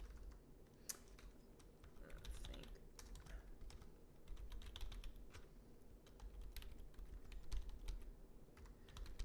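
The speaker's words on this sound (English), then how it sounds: "So I'm going to type that real quick." Rapid, uneven clicking of a computer keyboard being typed on, steady and close for the whole stretch over a low constant background rumble.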